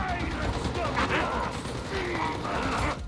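Rapid mechanical gunfire from a Dreg Gunner enemy in a video game, a continuous rattling clatter with creaky ratcheting textures, loud and dense throughout, no speech.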